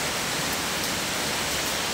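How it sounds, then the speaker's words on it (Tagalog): Heavy rain pours down in a dense, constant hiss, loud and unbroken throughout. "Grabe ang lakas na naman ng ulan, guys."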